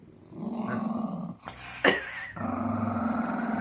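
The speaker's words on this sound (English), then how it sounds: "This is how the dogs interact with each other." Dogs growl at each other during play, a close, continuous low rumble broken by a brief yelp-like whine midway before the growling resumes.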